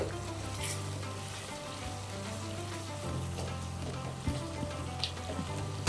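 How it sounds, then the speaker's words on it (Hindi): Chicken karahi sizzles and fries steadily in a pan, a continuous crackling hiss with occasional stirring sounds and no talk. "थोड़ी देरि जे लाइ मां हिनखे अञा फ्राई थी कयां"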